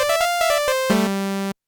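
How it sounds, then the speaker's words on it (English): Bright, buzzy saw-wave tones from an Arturia MiniFreak V4 synthesizer: a quick run of short staccato notes, then one sustained lower note that cuts off abruptly. "Let's take a saw wave."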